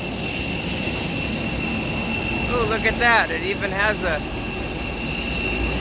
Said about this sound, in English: Got a CFM 56 engine.